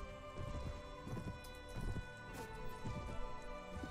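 Horse hooves clip-clop in a steady galloping rhythm during a Mount & Blade medieval battle, set in a dense, noisy game soundscape with clashing battle sounds throughout.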